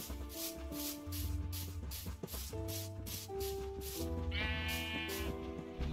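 Cows in Minecraft give repeated drawn-out calls, one after another, over a steady tonal background, fairly loud and close, with no speech.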